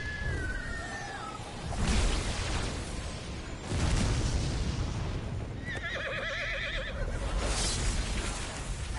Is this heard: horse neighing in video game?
yes